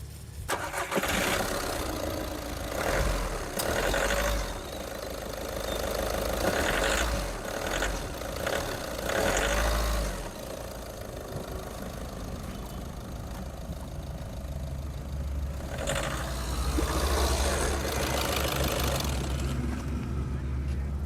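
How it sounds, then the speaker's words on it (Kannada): A used Volkswagen car's engine cranks and catches, then settles into a steady idle heard close by, with voices talking over the running engine. "ಇಲ್ಲಿಗೆ ಇಂಜನ್ ಚಾಲೂ ಮಾಡ್ತೀನಿ ನೋಡ್ರಿ."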